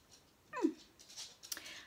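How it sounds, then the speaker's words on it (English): A dog whimpers indoors with a short rising-then-falling whine, followed by a few softer breathy yelps, fairly close and with no talk over it. "Doggy's going again."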